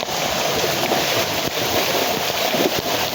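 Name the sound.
floodwater flowing after heavy rain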